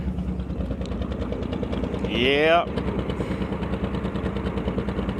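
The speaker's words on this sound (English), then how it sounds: "now it stays idling" A 1964 Chevrolet Impala wagon engine idling, a loud steady chugging rumble with an even pulse throughout, briefly overlaid by a rising whine, and a voice speaks a single word.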